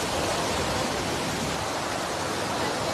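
Steady, loud roar of the Abbi waterfall near Sakleshpur, a dense continuous rush of falling water with no pauses, heard close up and alone.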